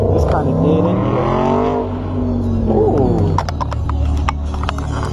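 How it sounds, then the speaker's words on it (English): An Audi accelerating away on a city street, engine rising in pitch over a few seconds, loud and close, with people talking over it. "That Audi just took off"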